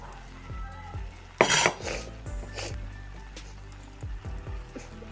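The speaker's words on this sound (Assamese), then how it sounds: "এইখিনিও এতিয়া ভালদৰে লৰাই মিক্স কৰি দিছোঁ গোটেইখিনি" Split jackfruit seeds stirred with jute leaves in a metal cooking pot, a spoon scraping and clinking against the pot in irregular strokes with one sharp clatter, close and moderately loud.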